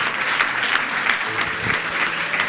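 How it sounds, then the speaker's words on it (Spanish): A church congregation applauds during a service, a dense, steady burst of clapping from many hands in a reverberant hall, with faint voices underneath. "Dele un aplauso al Señor"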